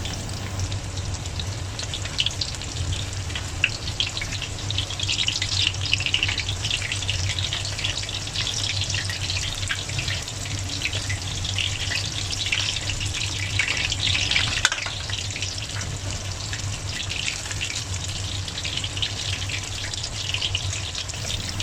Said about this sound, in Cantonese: 魚件開始熟，裏面嘅汁液走出嚟，會有啲滴滴答答嘅聲音。